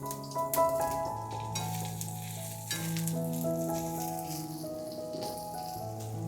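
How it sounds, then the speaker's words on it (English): Onions tossed into two tablespoons of cooking oil in a medium-hot pan for a chicken and zucchini stir fry give a soft crackling sizzle, with light clatter and stirring over quiet background tones. "2 tablespoons of cooking oil into a medium hot pan. In with our onions."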